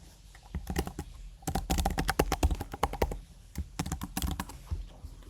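A password is typed on a computer keyboard, bursts of rapid close key clicks with short pauses between them and no talking.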